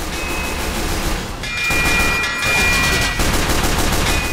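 Dense, sustained gunfire fills a Team Fortress 2 match on the Hightower map, a loud continuous barrage of rapid shots with slight swells, and no talking over it.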